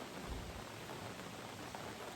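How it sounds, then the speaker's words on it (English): Steady rain falls in a dense, even hiss with no pauses or distinct drops. Faint low rumbles sit underneath, and no one speaks. "and listen to the rain."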